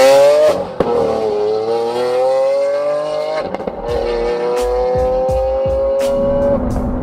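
A Lamborghini Aventador Molto Veloce Roadster with an aftermarket compressor exhaust revs hard close by, its loud engine note climbing in pitch through the gears, with sharp pops and crackles between shifts.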